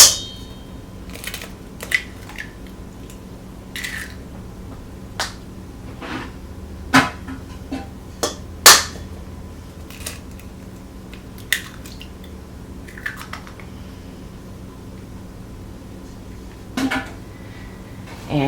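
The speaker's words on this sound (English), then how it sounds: "To that, I'm going to add 2 eggs." Two eggs go into a mixing bowl holding half a cup of butter for cake mix cookies: scattered light clinks and taps against the bowl, a few wet squishes and drips, close and quiet, with no talking.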